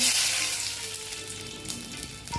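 Dried red chillies and bay leaves, added with cumin to hot oil for a Bengali vegetarian dhokar dalna, sizzle and crackle steadily, loudest at the start and easing off, with faint clinks near the end and no voices.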